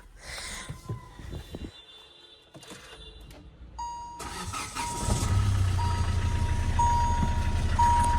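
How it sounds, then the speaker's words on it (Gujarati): A Hyundai Verna diesel car starts up: a few ticks and clicks, a chime, then the engine cranks and settles into a close, steady diesel idle with repeated warning beeps over it. "જે ડીઝલ એન્જિન સ્ટાર્ટ કરવાની મજા છે ને એ પેટ્રોલમાં નથી."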